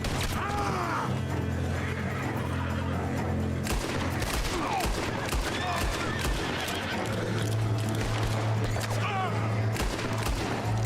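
Rapid gunfire in the Western video game Red Dead Redemption 2, with repeated loud shots and bursts over continuous game ambience and a low engine-like drone, alongside brief character shouts.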